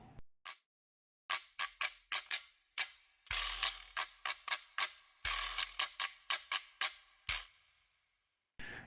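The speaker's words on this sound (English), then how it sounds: "We have the Quijada de Burro." A rapid, buzzy rattling from a donkey jawbone (quijada de burro) strikes in short bursts, some single and some rolling, with brief silences between; no voices.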